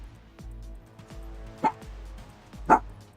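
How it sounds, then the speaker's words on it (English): Dogs barking in a series of short, sharp woofs spaced through the scene, with two louder close barks standing out over steady low background hum. "These dogs."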